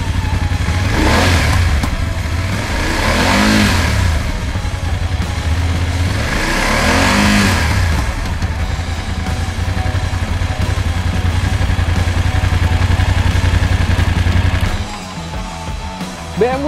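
BMW F850 GS Adventure 40 Years Anniversary motorcycle engine running close by, a steady idle punctuated by two strong revs that rise and fall, before dropping back to a quieter idle near the end.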